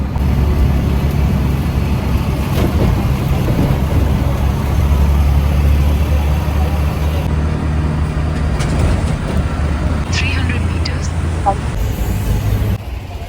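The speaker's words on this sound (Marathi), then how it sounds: "आणि इतकी क्राऊड आहे ना, खूप ट्रॅफिक पण आहे." Dense city road traffic near a busy street, a constant roar of car, bus and engine noise with passing vehicles, fairly loud throughout, with voices in the crowd mixing in.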